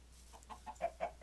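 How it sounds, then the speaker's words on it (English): Chickens cluck in the video game Minecraft, a few short soft calls coming in a loose rhythm, quiet and somewhat distant, with no voices over them. "Okay, there are lots of chickens."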